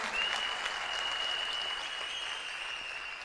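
Loud, steady crowd clapping rises at a company business gathering in honor of a charitable foundation, continuing evenly throughout without speech.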